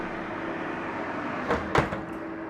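An oven door opens and shuts with a couple of close thuds as a classic tuna noodle casserole goes in, set against a steady kitchen hum.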